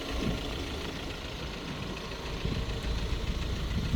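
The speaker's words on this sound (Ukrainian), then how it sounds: "Мотор зараз працює." A Volkswagen Crafter van engine idles steadily and close by, a low continuous rumble with a slight rhythmic knock, no voices.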